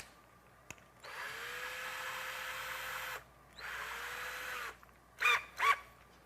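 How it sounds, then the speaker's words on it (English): A power drill with a drill bit bores into a fishing rod reel seat during a repair, two sustained whirring bursts of about two seconds each, close and loud, followed by two brief spurts. "I'm going to do a little drilling."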